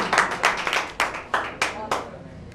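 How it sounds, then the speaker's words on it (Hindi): A small quiz audience claps for a contestant, a few loud, uneven bursts of hand claps close by, each swelling and dying away, spaced about half a second apart. "जोरदार तालियां बजाइए इनके लिए।"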